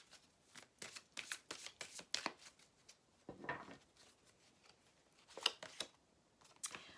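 Cards shuffled for a card reading, a quick flurry of crisp riffling and flicking close by, soft and irregular with short pauses, no talking.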